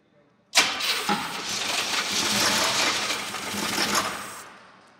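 An abandoned Camaro IROC-Z engine, unstarted for 27 years, cranks with a loud, rough, grinding roar that runs steadily for about four seconds before cutting off abruptly. No voices.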